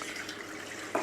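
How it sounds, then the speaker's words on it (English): A pint of water is poured into a container, giving a short, steady splashing trickle with a brief louder splash at the end and no talking. "So let's pour another pint of water in here."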